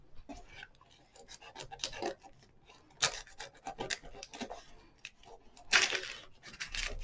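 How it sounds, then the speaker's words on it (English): A sharp knife trims dry tissue paper on a willow craft animal, giving soft rasping scrapes and brief tearing rustles in scattered bursts, close up with no talk. "now that it's dry, I can take a sharp knife and just carefully"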